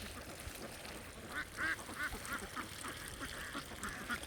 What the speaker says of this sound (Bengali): হাঁসের খাওয়ার একটা শব্দ অন্যরকম